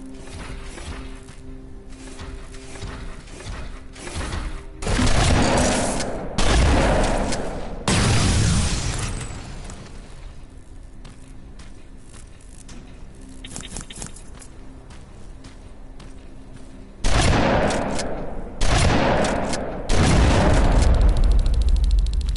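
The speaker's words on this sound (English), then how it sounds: "Sentry turrets." Sentry turrets firing in the video game Terminator: Resistance, set in a future war, with loud bursts of fire in clusters separated by quieter stretches.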